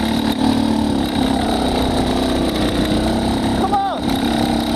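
A motorcycle engine fitted with a SmartCarb SC2 carburetor idles at low RPM, a steady, loud, close rumble that holds even throughout, with a person talking over it.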